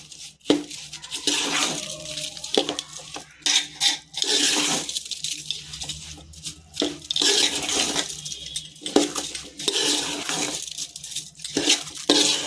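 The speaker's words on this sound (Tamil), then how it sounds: "இப்போ ஒரு மிக்ஸ் கொடுத்துடலாம்" A spoon stirs a home-cooked lunch dish in a metal pot right after curd is added, giving repeated clinking and scraping sounds with brief wet, sloshing bursts in an irregular rhythm, close and fairly clear.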